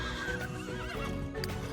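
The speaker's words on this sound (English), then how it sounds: "there's a bunch of horses around here." A horse in The Sims 3 gives a loud, wavering neigh with rising and falling whinnies, close by, along with faint hoof clip-clop and a steady game ambience behind it.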